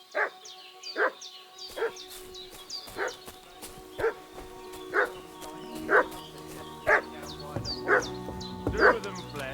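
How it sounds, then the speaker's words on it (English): A dog barks in the medieval video game Kingdom Come Deliverance 2, giving sharp, evenly spaced barks about once a second over a quiet sustained musical background. "What's that dog making such a fuss about?"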